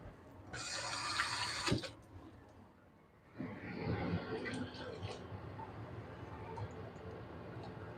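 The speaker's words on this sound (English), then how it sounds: "Do the same, get a little bit of water in here." Water runs from a tap into a bowl in a home kitchen: a bright stream pours for about a second and a half, pauses, then a second softer fill splashes and trickles before settling to quiet background.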